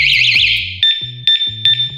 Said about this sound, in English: if someone touches it, the alarm goes off